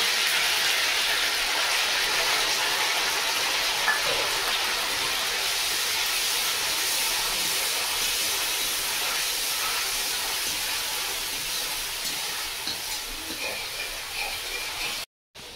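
Tomato paste made from four large tomatoes hits a hot pan with ginger paste, giving a loud, steady hiss of sizzling that holds for about fifteen seconds before cutting off abruptly.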